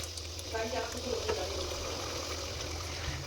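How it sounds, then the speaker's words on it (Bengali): Spiced jackfruit curry gravy simmers and is stirred in a pan after garam masala is added, with a soft, continuous sizzle and bubbling and a few light scrapes early on. "গরম মশলা দিয়ে ঝোলটাকে আবার একটু নেড়ে নিলাম"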